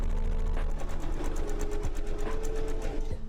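A sewing machine runs steadily while stitching plush toys, a fast even mechanical rattle with a few small knocks, close and alone.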